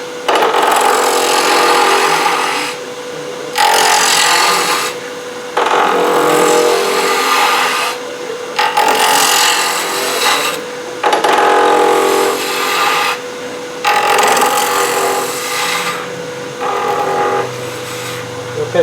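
A wood gouge cuts a cove in a workpiece spinning on a lathe, giving a loud, steady scraping rasp in several bursts of about two seconds each, with short pauses between them.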